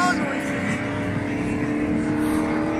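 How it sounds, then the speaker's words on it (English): A droning electronic motorbike engine sound effect from an Easyrider Simulator kiddie ride revs steadily, loud and close, with a tonal, toy-like quality and no breaks. "So the acceleration is motorbike noises"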